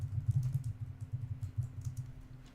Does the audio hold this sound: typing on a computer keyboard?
yes